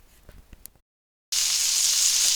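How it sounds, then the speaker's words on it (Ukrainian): Some soft clicks and taps, a brief silence, then a loud, steady sizzle of flour-coated fish pieces frying in a hot pan that carries on to the end. "в борошні обваляю і буду смажити"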